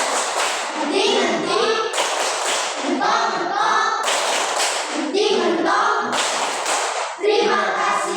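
A group of people, in a classroom lesson closing, claps hands together in a patterned thank-you clap, repeated bursts of loud, close, busy clapping with brief pauses between phrases.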